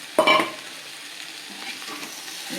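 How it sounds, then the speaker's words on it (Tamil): Boiled potatoes go into onion masala frying in a pan: a sharp clatter as they drop in, then steady soft sizzling and stirring, close by with no talking. "உருளைக்கிழங்கு போடுறோம் இதில்"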